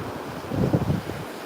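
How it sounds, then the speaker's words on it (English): Ocean waves wash onto a Sanibel beach at sunset, a soft surf rush that swells briefly in the middle, mixed with wind noise on the microphone. "Great sound of the waves in the background."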